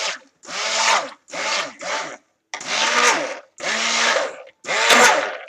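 A stick blender whirs in bursts while mixing hot process silk soap in a container, about six separate pulses of grinding motor noise with short pauses between, close and fairly loud.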